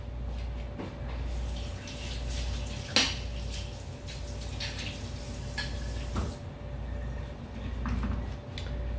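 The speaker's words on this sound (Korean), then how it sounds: "그리고 당연히 또 지거와 바스푼은 헹궈 주셔야 돼요" Running tap water steadily rinses a cocktail jigger and bar spoon at a bar sink, a constant broadband wash with a few faint metallic clinks and splashes, close and moderately loud, no talking.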